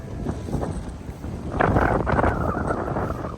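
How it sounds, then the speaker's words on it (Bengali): Fierce stormy gusts buffet the microphone in a dense roar that swells louder midway and stays heavy to the end. "দাঁড়ানো যাচ্ছে না এতটা হাওয়া"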